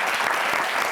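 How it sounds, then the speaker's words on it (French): Studio audience applauding on a French evening TV talk show, a steady dense wash of clapping throughout the short moment, loud and close with no voices over it. "Je voudrais des applaudissements de Rostar."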